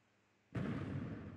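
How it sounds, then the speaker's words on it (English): A single sudden explosion effect in an Unreal Engine damage system test bursts in loud and broadband after a short quiet stretch, then sustains a rumbling roar to the end. "we're going to wait for the explosion."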